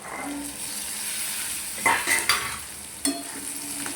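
Roasted chickpeas tipped into fried onion masala and stirred in a pan, a steady sizzle with several louder spatula scrapes and knocks against the pan toward the end, no talking.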